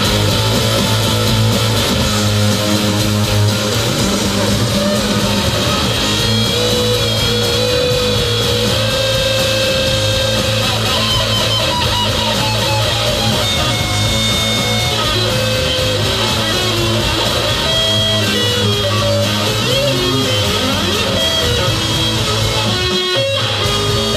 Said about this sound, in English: I've created some bonkers feedback at the end.